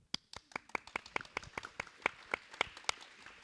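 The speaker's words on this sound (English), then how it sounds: "I have to clap for that one" Hand claps at a panel discussion, a sparse run of roughly a dozen sharp, fairly quiet claps spread over a few seconds, irregular at first and then steadier, with no talk over them.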